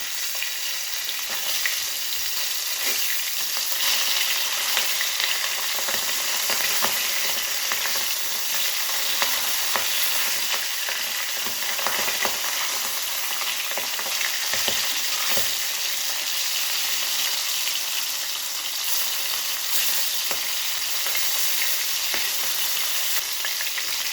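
Tengra fish frying in hot oil, a dense, steady sizzle with constant crackling and spluttering pops throughout, close and fairly loud with no voices.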